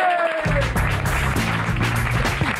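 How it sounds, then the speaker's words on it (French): Studio audience applause on a French comedy show, steady dense clapping under music and a host's voice throughout. "Et on applaudit très fort"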